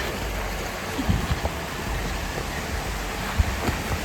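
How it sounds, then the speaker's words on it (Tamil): A small waterfall near Poombarai rushes in a constant, dense wash of water noise, steady and fairly loud throughout, with a couple of faint knocks. "குட்டி ஃபால்ஸ் தான். சவுண்டு பார்த்தீங்களா காய்ஸ்?"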